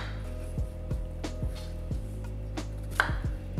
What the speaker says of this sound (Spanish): Ese yo lo estoy partiendo en 3